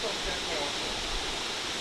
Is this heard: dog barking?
no